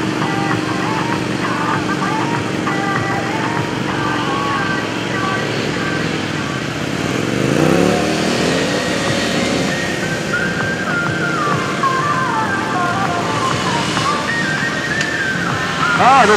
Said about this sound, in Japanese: 61番初参加の宮本選手、 CD125、警戒に走っていますよ